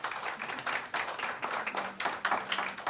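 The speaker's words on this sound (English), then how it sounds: "can we hold the applause till the end" Scattered hand clapping from a modest audience at a planning commission public hearing, fairly faint and irregular, lasting a few seconds with no talking.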